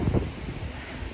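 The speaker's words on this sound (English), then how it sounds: "It's really windy." Strong winter wind in Lavrio, Greece buffets the microphone with low rumbling gusts and a steady airy roar.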